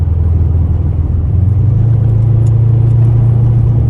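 A Subaru WRX car engine hums in a steady, low rumble throughout while driving, droning evenly without any sharp revs.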